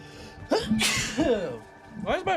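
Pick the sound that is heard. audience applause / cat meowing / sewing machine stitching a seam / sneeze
sneeze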